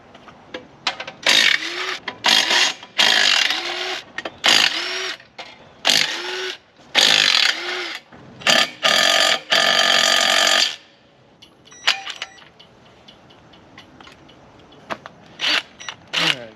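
Power tool work on a Jeep Wrangler TJ engine, pulling the clutch and flywheel: repeated loud bursts of an impact driver or drill, each a second or two long with short gaps, then a longer run before quieter scattered clicks.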